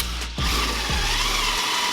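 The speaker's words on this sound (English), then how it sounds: "now John is taking out the bottom shock bolt." A ratchet wrench clicks rapidly as it loosens the bottom shock bolt on a Camaro SS during a coilover install, a close, steady ratcheting buzz with two brief pauses.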